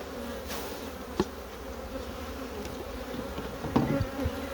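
A honeybee colony on nine hive frames gives off a dense, steady buzzing. The sound is close, with a few faint knocks and handling noises over it.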